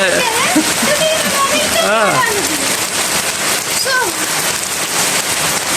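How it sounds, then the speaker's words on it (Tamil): Steady, heavy rain pours down throughout while a person talks over the constant patter. "பார்த்தா மழை பெய்யுது"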